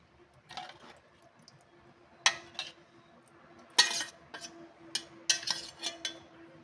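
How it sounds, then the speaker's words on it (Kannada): A spoon scrapes and clinks against a metal vessel while curd is scooped in for buttermilk, giving a few sharp, quiet taps and clatters at irregular intervals in a quiet kitchen. "ಈಗ ನಾನು ಪಾತ್ರೆಗೆ ಮೊಸರು ಹಾಕ್ಕೊಳ್ತಾ ಇದ್ದೀನಿ."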